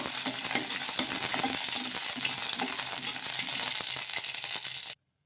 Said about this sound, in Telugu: ఇలా కొంచెం నూనె వేసేసుకొని ఒక 30 సెకండ్స్ పాటు ఇవి ఫ్రై చేసేసుకోవాలి కొంచెం ఆయిల్లో